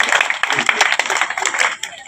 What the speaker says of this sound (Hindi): एक बार जोरदार तालियां बजाएं आप लोग।